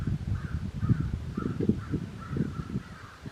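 Several crows caw in an autumn yard with a light wind blowing, harsh calls repeating in short bursts at moderate distance over steady outdoor noise.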